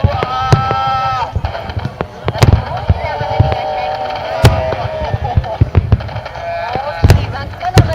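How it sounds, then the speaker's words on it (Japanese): Big red fireworks burst at the Kashiwazaki fireworks festival in Japan, with several loud, sharp booms standing out over a continuous crackling, rumbling background and the murmur of a crowd. "大きい真っ赤な花火でした。"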